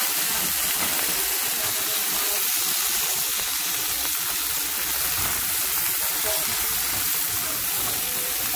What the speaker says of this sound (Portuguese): Vou jogar agora a cebolinha.